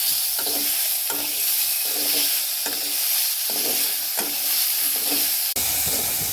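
Stinging catfish frying in hot oil, a steady dense sizzle with stirring scrapes recurring roughly every second, close and loud, with a sharp clack near the end and no voices.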